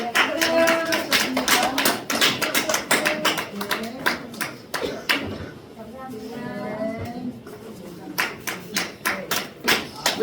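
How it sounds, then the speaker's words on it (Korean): Scattered clapping from a small church congregation, uneven and fairly close, mixed with people talking. "우리 박수 좀 주세요"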